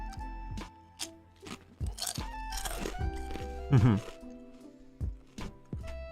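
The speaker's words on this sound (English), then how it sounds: "I'm currently eating some tortilla chips." Tortilla chips crunch loudly in the eater's mouth, repeated crisp bites and chewing bursts close to the microphone, mixed with a person talking and background game music.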